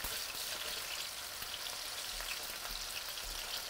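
Chicken pieces frying in a pan for a caprese chicken dish, a steady dense sizzle and crackle of hot oil throughout, close and even, with no voices.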